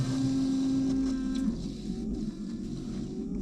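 The windscreen washer pump of a 22-year-old VW Polo 6N2 gives a steady, close whine for about a second and a half, then fades into a softer hiss of spraying water with no talking.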